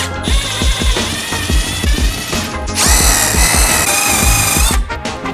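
Power drill driving a bit through a rear wing on a Mk4-style Supra setup with protective film, in repeated short bursts of loud whirring that continue steadily through the clip, close up.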